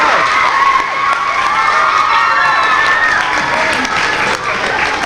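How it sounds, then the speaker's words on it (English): Applause at a school Arbor Day ceremony, a steady crowd clapping loudly with cheers and children's shouts mixed in, sustained throughout. "let's give a round of applause."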